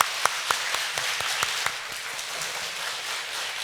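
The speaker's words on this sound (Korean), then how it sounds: "우리 선교사님 뜨겁게 박수로 환영하겠습니다." Church congregation clapping to welcome a missionary during a Sunday service, a short burst of distinct claps near the start that quickly thins into a faint, scattered patter against a quiet room.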